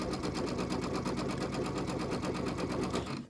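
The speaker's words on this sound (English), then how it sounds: "So when we go to sew this down" Sewing machine stitching down border strips on a bench pillow, a steady rapid needle chatter running loud and continuous for about three seconds before stopping abruptly.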